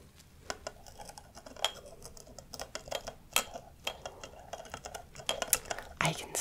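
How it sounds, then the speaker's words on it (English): A spoon stirs a café drink in a cup, making light rhythmic clinks and taps against the sides, close and soft, with a quiet voice faintly present. "And just stirring again."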